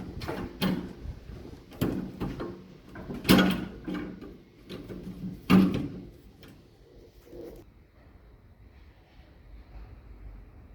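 A door on the radiator cooling chamber of a TGM23 diesel shunting locomotive is worked open with a series of metallic clunks and knocks, several sharp impacts, before fading into quiet background.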